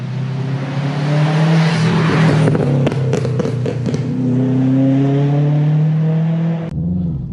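Subaru Impreza WRX STI with a 2.1 stroker engine making about 456 bhp, heard from inside the car as a loud, steady, throaty engine drone that rises in pitch, with clattery bursts midway and a brief dip near the end.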